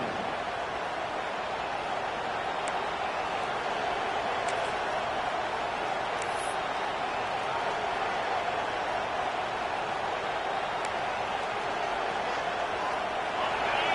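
A stadium crowd in a college football video game against Notre Dame gives a steady, dense roar that holds evenly from start to finish.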